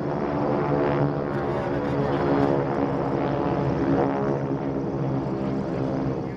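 A TBM-3 Avenger and an F4U-4 Corsair, naval piston-engine warbirds, fly together at an airshow, their propellers making a loud, sustained droning hum with a steady buzzing throb.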